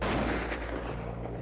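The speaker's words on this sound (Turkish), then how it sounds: "Warner Bros'a da ateş ettiler." Rapid bursts of cartoon gunfire from a Tom and Jerry cartoon crackle and pop in a dense, loud volley, with a boomy, processed quality.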